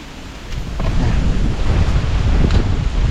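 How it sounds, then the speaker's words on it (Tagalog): Strong outdoor wind gusting and roaring across the microphone, rising after the first half second into a steady, heavy rumble with buffeting bursts. "at malakas yung hangin"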